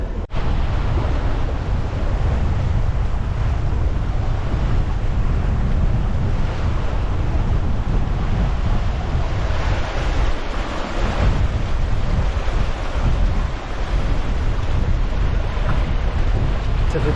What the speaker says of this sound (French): Ça fait plaisir de se retrouver en mer, dans 20 nœuds de vent, au près.